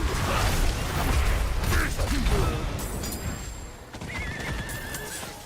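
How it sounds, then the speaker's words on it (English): A horse mount in the video game Diablo 4 neighs loudly over rhythmic hoofbeats, followed by creaking, mechanical game effects and a brief high whinny-like tone, with faint talk in the background. "I like I can ride my horse while Berserker."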